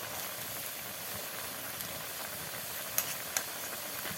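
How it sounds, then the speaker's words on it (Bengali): Bean curry with tilapia bubbling in a covered pot on the stove, a steady dense hiss and simmer throughout with two brief clinks near the end, no voices. "বলক উঠে গিয়েছে, তার মানে হয়ে গিয়েছে তরকারি রান্না।"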